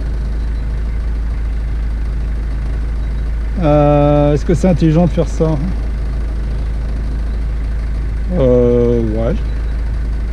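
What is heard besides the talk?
car engine idling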